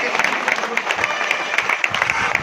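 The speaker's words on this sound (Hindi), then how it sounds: "एक बार जोरदार तालियां दो।" Seminar audience applauds, a dense wash of many hands clapping with sharp individual claps standing out, steady and fairly loud across the moment.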